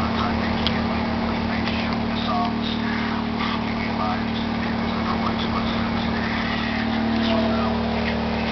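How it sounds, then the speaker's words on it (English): Champion 2000W inverter generator, model 73535i, running under load about 15 feet away outside a garage, a steady low drone with a constant hum throughout, with voices heard faintly over it. "And that's how loud the generator is."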